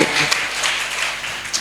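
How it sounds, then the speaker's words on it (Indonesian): Audience applause at the closing of a school literacy festival, a brief burst of crowd clapping that is loud and close, with voices mixed in throughout. "Tepuk tangan untuk semuanya."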